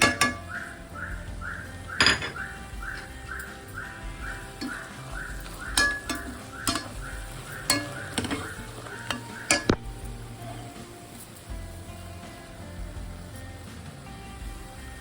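Ginger and spinach frying in a pan are stirred with a utensil, making repeated scraping strokes and metallic clinks against the pan over a steady low sizzle, with sharper knocks near the start and a quieter end.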